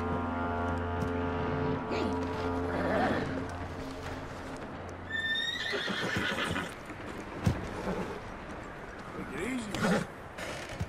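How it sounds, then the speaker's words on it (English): A horse whinnies over a busy soundscape from the video game Red Dead Redemption 2, with hoofbeats and background music, and people talk throughout. "That looks like a decent horse."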